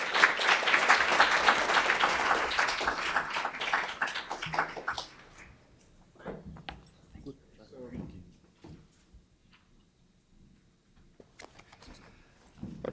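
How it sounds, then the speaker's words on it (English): A conference audience applauds panelists at a public performance conference: a dense, loud wave of clapping for about five seconds that quickly dies away, leaving scattered faint knocks and rustles in a quieter room. "Let's give us our panelists another round of applause."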